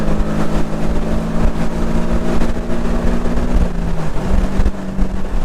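A tuned 2018 Porsche 718 Boxster with a turbo engine accelerates hard. Its loud, droning engine tone climbs steadily, dips briefly as if shifting, then rises again amid wind rush.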